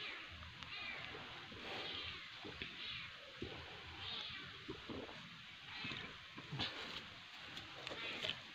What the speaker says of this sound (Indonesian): malah nemu kucing